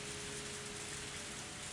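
Steady, dense rainfall from the game Higurashi When They Cry, an even wash of rain with no breaks.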